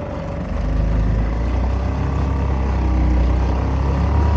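A boat engine drones steadily up close, a low continuous rumble with a slight rise in intensity as it runs.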